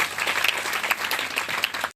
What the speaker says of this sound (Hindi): परमेश्वर का जोरदार तालियां बजाकर धन्यवाद करें।